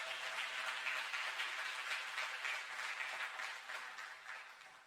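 A church congregation applauds during a Sunday service, a steady, even wash of many hands clapping together, heard from some distance and sustained without a break.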